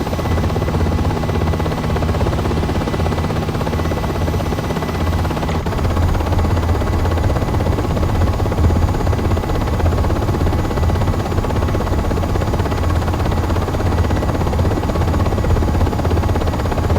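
UH-60M Black Hawk helicopter in Aerofly FS4, a steady loud rotor and turbine roar with continuous thumping buzz, alone with no voices.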